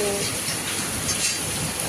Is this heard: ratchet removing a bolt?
no